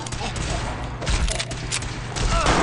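Dense gunfire from a Fallout 4 firefight, a continuous fusillade of overlapping shots and heavy thuds lasting throughout, loud and close, with a few louder bursts near the end.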